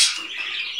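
A Kakariki parrot in a bird room gives a brief bright chirping sound that blends with a soft rush of wing flutter, close and fairly loud, with no talking.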